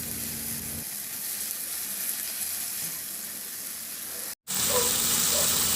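Shrimp paste (bagoong) sautés in a pan with a steady, close sizzle that runs almost unbroken, with one very brief cutout near the end before the frying noise returns slightly brighter.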